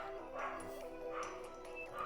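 An excited dog barks and yips in short bursts under steady room noise, the barks fairly faint and muffled, as if from another part of the room.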